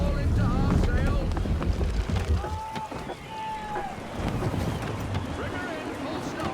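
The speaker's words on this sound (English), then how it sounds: "Wind looks to be shifting. Stay alert, Connor. Gusty winds can be difficult to manage." Wind gusting and water rushing around a sailing ship at sea in the video game Assassin's Creed III, a loud steady roar with creaks and tonal whistles, under a voice speaking.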